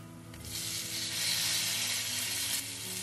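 Ground spices and tomato pieces frying in hot oil for Kerala-style rasam, a steady close sizzle and hiss that swells as the tomato goes in, with no talking.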